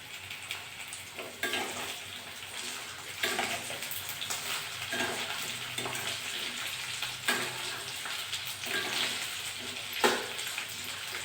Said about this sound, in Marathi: हे थोडं शिजलं की छान तळल्या लसूण आणि मिरच्या